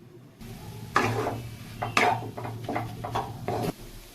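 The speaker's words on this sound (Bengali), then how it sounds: "গ্যাসের ফ্লেমটা লো রেখে আমি একটু ভেজে নেব।" Grated carrot frying in a pan over a low gas flame, a soft low sizzle under several distinct scrapes and knocks of a spatula against the pan, close and moderate.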